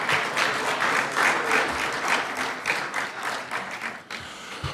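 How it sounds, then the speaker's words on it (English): Audience applause fills a wireless industry summit hall, steady sustained clapping from a large crowd lasting the whole stretch, near and fairly loud, briefly dipping before picking back up at the end. "Let's give them a round of applause."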